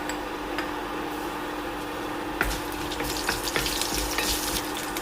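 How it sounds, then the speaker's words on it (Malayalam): Mustard seeds and dried red chillies frying in hot coconut oil, giving a steady close sizzle with scattered sharp pops and crackles that grow busier in the second half. "കടുക് പൊട്ടി അതിലേക്ക് വറ്റൽമുളക് ചേർക്കാം"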